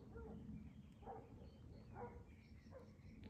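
Large dogs bark from somewhere below, distant and faint: a few separate woofs spaced about a second apart over a low rumbling background, with no one talking.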